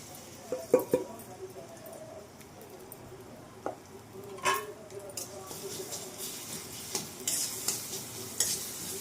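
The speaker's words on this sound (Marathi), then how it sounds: "हे काढून घेतलेले मसाले हेही फ्राय करणार आहे कड्यातच दोन मिनटासाठी" Spices and a ground paste fry in a kadhai for pea kachori filling, a soft steady sizzle with intermittent stirring scrapes and clinks of a utensil against the pan, fairly quiet and close.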